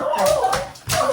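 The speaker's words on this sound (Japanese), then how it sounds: "なんか向こうから犬が聞こえるので、" A lively dog in a house lets out high, whiny barks and yips in three quick bursts, loud and close, with a brief dip between the second and third.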